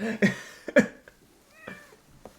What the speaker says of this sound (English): It was a quieter meow.